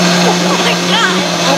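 A kitchen blender grinds a full McDonald's Big Mac meal with added liquid, a steady motor whine and churning roar under excited close-up talk.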